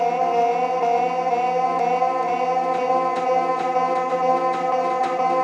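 An old unprocessed sample made on an Elektronauts Digitakt drum machine plays as a sustained, harmonically rich tonal drone with faint rhythmic clicks and pulses running through it, steady and loud with no voices.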